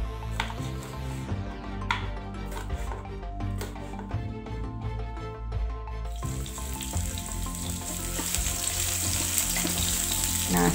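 Shallots and garlic sautéing in hot oil in a pan, a steady close sizzle and crackle that swells louder and brighter toward the end, with no talking.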